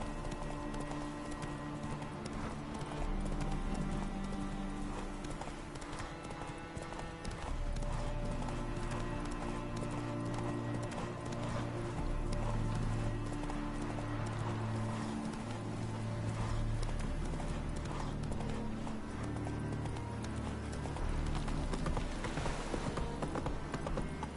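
Roach the horse trots along in The Witcher 3, hooves clip-clopping in a steady, close rhythm over continuous game music.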